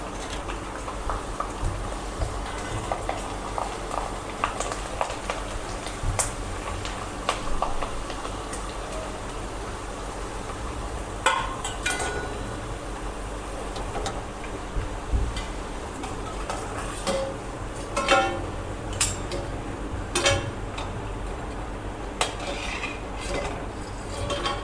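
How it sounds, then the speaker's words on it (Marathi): Poha chakli spirals fry one at a time in hot oil, giving a continuous soft sizzle with occasional metal clinks from utensils against the pan, close up and without talking. "आता त्या तळून दाखवते मी तुम्हाला."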